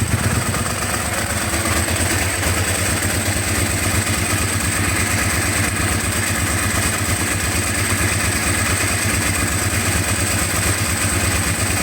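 A Ducati 749S motorcycle engine idles steadily and loudly up close at operating temperature, a continuous rhythmic chugging with a faint mechanical clatter and no voices.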